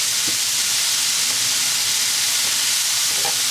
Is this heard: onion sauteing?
yes